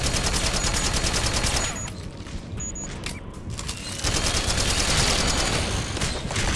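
Dense bursts of rapid gunfire in Metal Gear Solid 4, loud and sustained, ease off briefly midway and then resume in rapid volleys.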